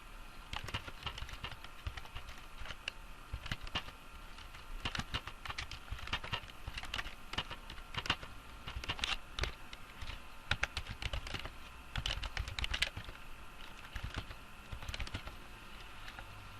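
Rapid, irregular clatter of keys on a computer keyboard while typing text into a Word document, close and fairly quiet, with continuous bursts of keystrokes and no talking.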